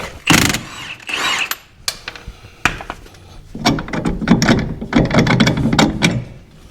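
A socket ratchet turns a bolt on a Jeep WK, giving bursts of rapid metallic clicking, close and loud, with a short pause before a longer run of ratcheting strokes.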